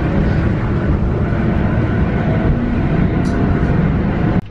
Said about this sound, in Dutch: Hier zitten we dan, in de oude tram.